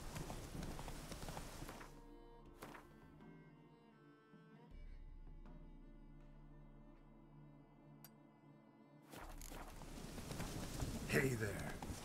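Horse hooves clip-clop as the rider's mount trots in the video game The Witcher 3, a brisk rhythmic patter heard at the start and end under a middle stretch of soft sustained music tones.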